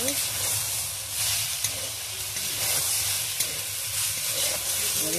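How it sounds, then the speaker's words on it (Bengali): Kulekhara greens sizzle and fry in a pan while being stirred, a steady close hiss with occasional scraping clicks of the spoon against the metal. "ঢাকাটা খুলে ভালো করে নাড়িয়ে নেব।"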